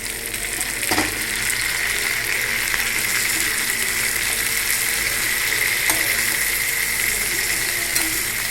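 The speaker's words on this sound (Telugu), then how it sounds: "టమాటాలు కట్ చేసుకొని ఉప్పు పసుపు వేసుకొని బాగా వేయించుకోవాలి" Continuous loud sizzling of chopped tomatoes with salt and turmeric frying in oil, with a couple of brief scraping clicks from stirring; nobody speaks.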